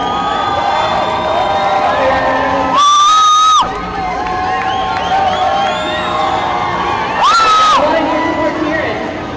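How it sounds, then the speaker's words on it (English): A crowd at a roller derby game in the Austin Convention Center cheers and whoops in two loud surges amid constant arena hubbub and babble, with an announcer's amplified voice between the bursts. "if you guys can start cheering, you guys want 3 t-shirts?"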